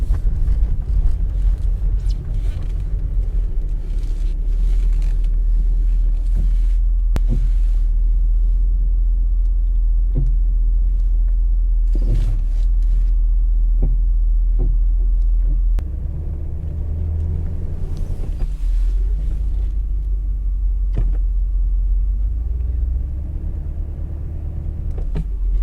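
Pickup truck engine idles in a deep, steady rumble close by while a trailer is loaded with a Mercedes, with occasional clanks and knocks from the loading work on top.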